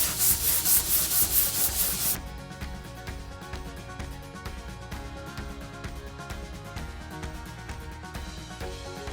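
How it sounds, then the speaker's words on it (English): A boat hull being sanded during fairing gives a steady, loud abrasive rubbing with a rhythmic back-and-forth texture that runs throughout, harsher and brighter at the start. "with the hull you can keep fairing, but there's a point where you just have to accept it"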